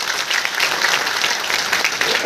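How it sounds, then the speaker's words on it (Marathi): Loud, dense applause from a crowd at a Bhim Jayanti speech event in Nanded, a steady roar of clapping for a couple of seconds with a voice faintly mixed in. "प्रथमतः त्यांच्यासाठी एकदा जोरदार टाळ्या होत्या."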